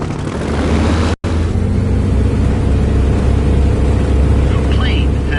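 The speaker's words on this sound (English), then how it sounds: "The plane has started accelerating." A fixed-wing airplane's engine roars at full throttle during a takeoff run in War Thunder, a loud, steady droning hum with rising tones, and a brief cut near the start.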